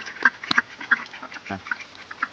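Ducks at a rural Assamese home give a run of close, loud quacks in quick irregular bursts, with no voices over them.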